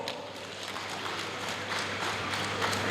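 Audience applause at the 10th anniversary of the Offa Development Union's medical outreach; a steady wash of clapping that swells slightly toward the end, with a low steady hum beneath and no talk.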